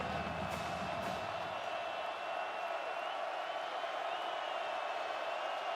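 A stadium crowd at a college football game between West Virginia and Oklahoma roars steadily with a dense, sustained wash of cheering that never lets up.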